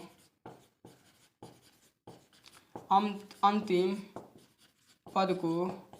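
Pen or marker scratches out a class 10 math solution in short rhythmic strokes, close and distinct, while someone talks over the writing in bursts.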